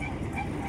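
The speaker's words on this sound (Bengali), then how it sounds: "যা ট্রেন চলে গেল।" A train rumbles past at close range with a steady, loud low roar and rattling throughout this brief moment, and voices are mixed in.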